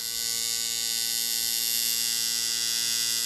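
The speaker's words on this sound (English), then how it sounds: "the sound of the machine is very consistent. It doesn't fluctuate like this." A tattoo machine buzzes steadily at an even pitch, constant and close with no fluctuation and no speech.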